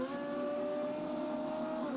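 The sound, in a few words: race car engine revving during pit stop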